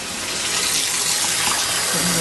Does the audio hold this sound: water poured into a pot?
yes